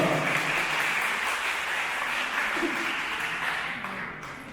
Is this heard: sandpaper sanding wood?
no